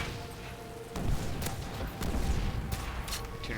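Grenade explosions in the zombies map UGX Requiem, a few loud bursts with broadband crashes at intervals amid a noisy game background.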